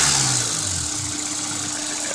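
A 2003 Honda S2000 engine with a ticking fault drops from a rev back down to a steady idle, heard up close with no talk.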